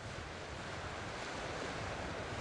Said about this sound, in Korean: 무섭게 몰아치는 바람과 성난 파도를 섬은 온몸으로 맞아야 합니다